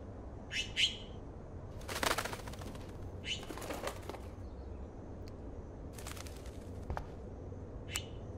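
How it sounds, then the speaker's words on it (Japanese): A small bird trapped indoors in the video game Life is Strange flaps its wings in quick, faint bursts with a few soft chirps scattered across a quiet room. "あ、あの小鳥、"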